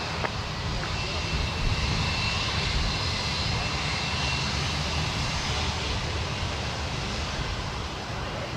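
A fixed-wing airliner roars steadily on landing approach at Sydney Airport on a crosswind day, a loud continuous engine rumble with wind-like broadband noise filling the whole stretch.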